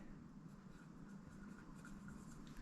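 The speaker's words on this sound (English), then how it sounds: "I will use my black pen. And I'm going to write" A black pen writes on a white bag of sprouted gluten-free oats, a steady close scratching that runs without pause under a soft room hum.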